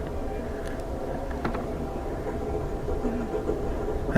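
An Amtrak overnight train runs on the rails, heard from inside the car as a steady low rumble with faint clicks and rattles and no speech.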